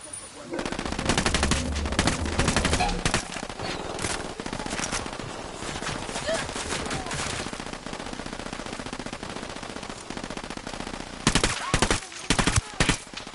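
Gunfire from a military shooter video game, with sustained rapid automatic bursts for most of the stretch, then sharper separate volleys toward the end, fairly loud and close.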